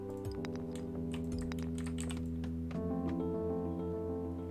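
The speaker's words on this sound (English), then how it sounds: "there's pros and cons to getting a new keyboard with a lot of click-clack features on it" Clicky mechanical computer keyboard being typed on, rapid irregular clacks close by over a steady low hum, with no talking.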